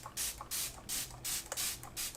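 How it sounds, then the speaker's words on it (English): Makeup setting spray spritzed generously in about five quick bursts, each a close, soft hiss with short gaps between them. "And generous spray."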